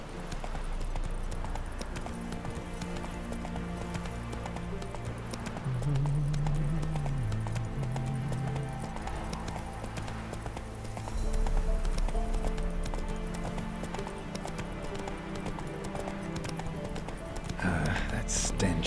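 Roach the horse galloping in The Witcher 3, rhythmic clip-clop hoofbeats running steadily and fairly close, with game music and ambient sounds underneath and a voice speaking over part of it.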